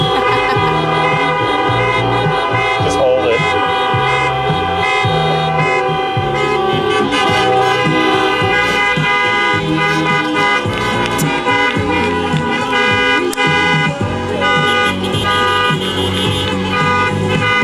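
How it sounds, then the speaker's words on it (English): Car horns honk at a drive-in theater on its final night, with many overlapping toots and sustained blasts forming a loud, continuous chorus. "They're honking."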